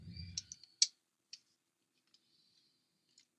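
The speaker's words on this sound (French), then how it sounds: "ciseaux." Scissors cut paper to make an envelope for a narrow card. A few short, crisp snips and clicks sound close and quiet, with a soft thump at the start and no talking.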